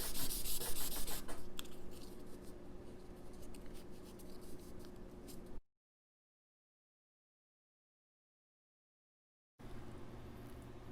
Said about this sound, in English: I just finished sanding this